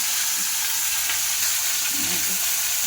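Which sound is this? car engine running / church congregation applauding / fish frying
fish frying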